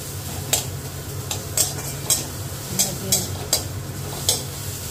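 Onions fry in a pan while a spatula stirs them, a steady sizzle punctuated by regular scraping clicks against the metal, close and moderately loud with no talking.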